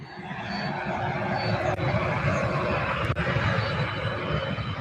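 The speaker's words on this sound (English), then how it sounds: "have UPS flight 2684 to Omaha, Nebraska" A UPS cargo jet holds short on runway 17 right at SDF airport, its engines giving a steady, loud rumbling roar with broadband hiss for the whole stretch, no voices.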